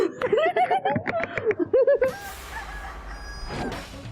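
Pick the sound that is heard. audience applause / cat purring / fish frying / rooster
rooster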